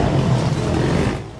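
Four-wheeler ATVs run through a neighborhood with a loud, throaty engine roar close by that fades slightly near the end of the short burst.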